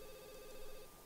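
A telephone rings in The Sims 2, a single short electronic ring tone, steady and faint, with no voices over it.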